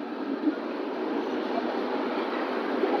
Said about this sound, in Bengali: ডান দিকে একটা ট্রেন যাচ্ছে, আশা করি দেখতে পাচ্ছ সবাই।